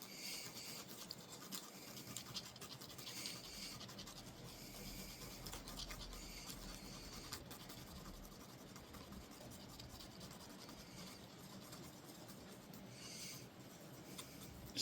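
Two-part epoxy being stirred together for a headset repair, a steady close scraping and rubbing that runs continuously without pause.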